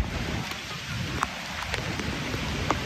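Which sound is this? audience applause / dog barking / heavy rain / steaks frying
heavy rain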